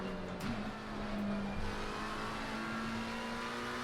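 Race car engine droning steadily in Assetto Corsa Competizione multiplayer racing, with a sustained tonal whine that shifts slightly as another car passes close alongside on the right; loud and continuous, no talking.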